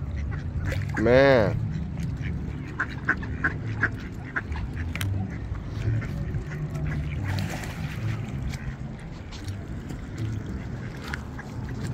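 Ducks at a feeding spot quack in short bursts under a voice, with one louder honking call early on and scattered splashing of water around them.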